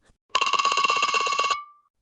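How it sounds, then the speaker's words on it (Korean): A telephone bell rings in one rapid, continuous electronic trill for just over a second, loud and close, with no voices. "며칠 후 수진 씨에게서 다급한 전화가 옵니다."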